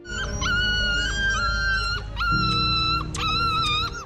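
Young dog pup whimpering and crying in high, drawn-out wavering whines, several in succession with brief pauses, close and fairly loud over a rough low background.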